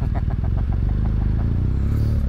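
A BMW R1200 GS Adventure motorcycle's boxer engine runs with a steady, loud low-pitched thrum and rhythmic pulsing, recorded close up while riding.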